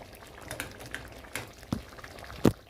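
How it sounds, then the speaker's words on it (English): Githeri of beans and maize simmers in a pot with the heat turned down, giving soft, continuous bubbling dotted with occasional louder pops near the end. "allow the food to simmer for a few minutes before I serve"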